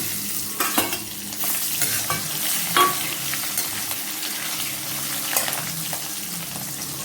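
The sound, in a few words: green chillies frying and stirred in tempering oil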